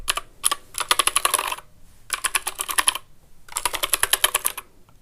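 Bursts of rapid typing on an Anne Pro 2 RGB mechanical keyboard, three clusters of crisp, close keystrokes separated by short pauses.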